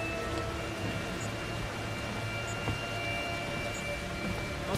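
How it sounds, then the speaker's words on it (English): Rain falls steadily in the video game Outlast 2, a dense, even hiss of drops with a low rumble beneath and faint high tones, quiet and unbroken with no voices. "Why is it raining blood?"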